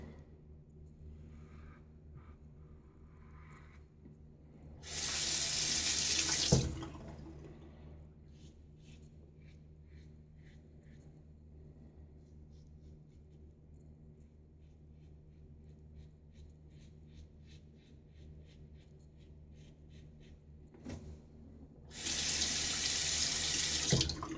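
A bathroom tap runs into a sink for rinsing during a wet shave, two short bursts of close rushing water, each a couple of seconds long, separated by a quiet stretch with faint handling sounds.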